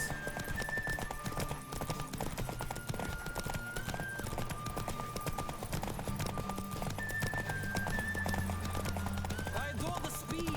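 Rapid rhythmic hoofbeats of a galloping horse in the video game The Witcher 3: Wild Hunt, over a busy music bed, with an occasional whinny; steady and loud throughout.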